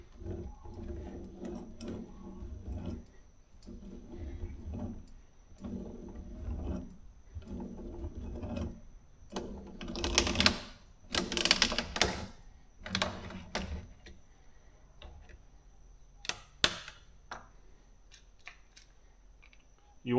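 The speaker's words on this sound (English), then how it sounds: "The way too expensive oil filter cutter, but I don't recommend it doing it any other way, because this gives a clean cut" Oil filter cutter cranking around a filter from a CAT 289D3 oil change, a series of faint rhythmic ratcheting grinds followed by sharper metallic clicks and snaps near the end.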